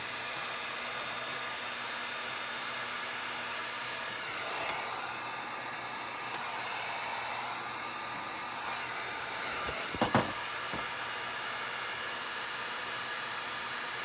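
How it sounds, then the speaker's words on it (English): A heat gun runs continuously during assembly of a Huxter Labs GI Joe Helijet pack, a steady close roaring blower with a couple of brief clicks near the middle. "so you get the heat gun going again"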